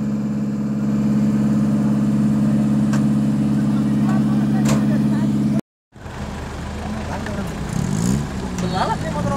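An offroad vehicle engine idles with a steady low drone that cuts out briefly, then rougher engine and outdoor noise follow, with people talking over it.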